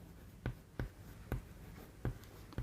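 Chalk or marker tapping and scratching on a board during a probability class, five distinct sharp strokes spaced unevenly over a quiet room, close and fairly clear with no voice.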